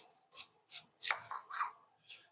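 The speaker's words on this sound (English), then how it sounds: "We're going to chop up the onions like such." A knife chops onions on a board in a home kitchen, about six quiet, distinct chops in an uneven rhythm, with no other sound around them.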